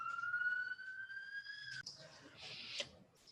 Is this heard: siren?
yes